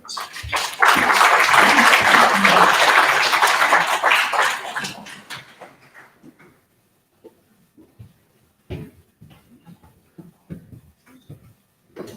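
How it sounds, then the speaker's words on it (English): Audience applause welcoming a speaker at the Lakota Media Summit: a loud, dense burst of clapping for about five seconds that fades out, followed by quiet scattered sounds. "Please help me welcome with a warm round of applause"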